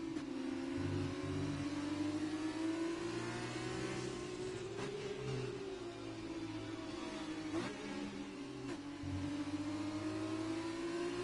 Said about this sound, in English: he just gets a little bit too eager on the throttle there